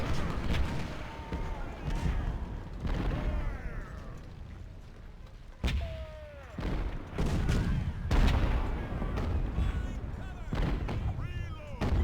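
Cannon artillery fire from a Civil War battle in Ultimate General: Civil War, including a 20-pound gun, with repeated booming shots and battle noise running under a voice.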